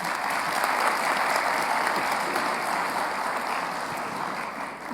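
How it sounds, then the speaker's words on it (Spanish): Audience at an insurance brokers' forum in Guatemala claps steadily to welcome a speaker, a dense, even wash of applause that fades slightly toward the end. "Un aplauso"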